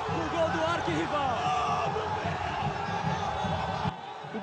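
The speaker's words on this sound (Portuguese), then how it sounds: "A torcida internacional vibra com o gol do arquirrival." Football supporters in a Rio Grande do Sul stadium roar and cheer after a Grêmio goal, a dense, sustained crowd din with shouts and whoops, dropping slightly near the end.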